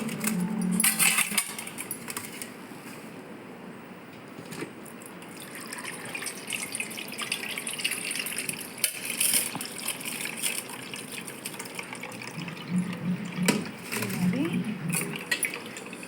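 Herbal water that has been left to soak is poured through a strainer, giving a steady splashing, trickling flow with brief louder gushes near the start and end.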